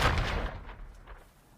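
A single sharp gunshot from a film scene, a man shooting his wife indoors, bursts loud at the start and then trails off into a fading, booming reverberation.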